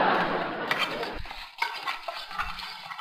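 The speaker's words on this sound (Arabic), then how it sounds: "نقلب" A spoon scrapes through tomato sauce in a small pot, giving a few close, uneven stirring strokes with light metallic knocks over a steady background hiss that fades partway through.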